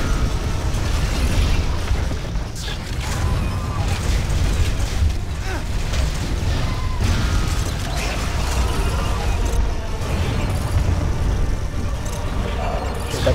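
Continuous explosions and mechanical rumbling from the video game Advent Rising churn for several seconds, dense and loud, with a voice talking underneath.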